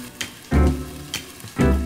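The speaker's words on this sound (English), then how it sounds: "You need to start with frying cutlets." Cutlets frying in a pan, with bursts of sizzling and spitting that swell and fade three times in short, loud pulses.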